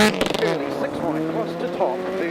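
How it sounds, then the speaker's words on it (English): Rally car engine at the 2018 Raglan Rally of the Coast in New Zealand, screaming at high revs after a missed third gear, with a loud, sustained whine that rises and wavers under commentary. "he missed 3rd gear there. Sounds like the engine's over-revved."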